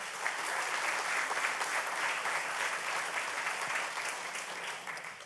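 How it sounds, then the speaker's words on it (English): A hall of fame audience gives sustained, full applause for sports inductees, a thick steady roar of clapping that tapers slightly toward the end. "If you'll please give them a round of applause."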